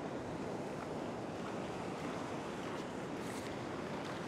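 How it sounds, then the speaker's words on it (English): Ocean surf washing over coastal rocks after a big swell, a continuous broadband rush of water with wind buffeting the microphone, steady and fairly loud with no voices. "Just watching these waves."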